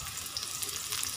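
Green chilies hit hot oil in a pan with a steady, close hiss and crackle. The sizzle is bright and continuous over the short stretch, with no talk.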